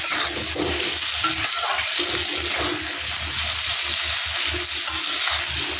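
Potatoes and spices fry loudly in a pan for aloo dum, a dense continuous sizzle with rhythmic stirring thumps and scrapes, close and unbroken, with no talking.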